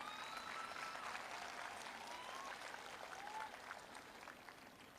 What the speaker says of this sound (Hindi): गुरुजी के लिए जोरदार तालियां होनी चाहिए